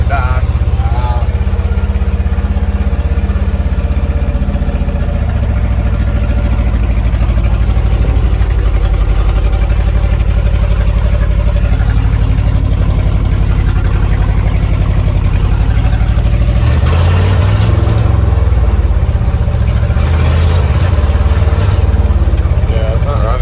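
A 1971 Ford F-350 truck engine runs rough as the truck drives, a loud, steady low drone that swells and shifts around a gear change partway through, with people talking over it.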